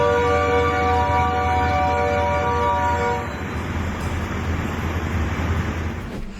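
A train on a Texas line sounds a loud, sustained horn for about three seconds, then rolls past with a heavy rumbling roar and rattle that continues to the end.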